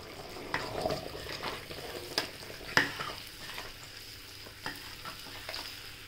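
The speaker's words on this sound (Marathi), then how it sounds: "ते कढईत तेलात तिखट टाकलं" Chili powder frying in hot oil in a kadhai for pav bhaji, a soft crackling sizzle punctuated by a few sharp scraping clicks from stirring, fairly quiet and close.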